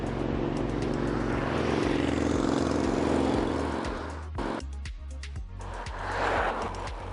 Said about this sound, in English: There'll be a lot of traffic noise until I get off this road.